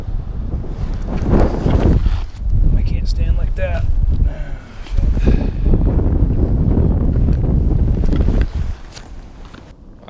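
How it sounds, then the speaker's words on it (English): Heavy wind buffets the microphone in loud, rumbling gusts throughout, while a person speaks over the roar, out on early-season lake ice while ice fishing for perch. "Oh, it's windy."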